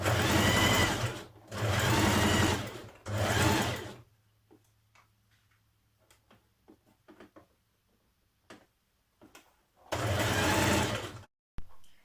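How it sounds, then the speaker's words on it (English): A home sewing machine stitches darts on the back skirt panels of a Burda 6320 dress in three loud, close runs of rapid, even mechanical whirring, separated by quiet pauses with soft handling clicks and rustles. "Stitch in your darts on your back skirt panels."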